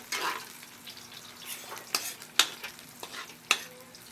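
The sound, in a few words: sliced garlic sautéing in hot oil in wok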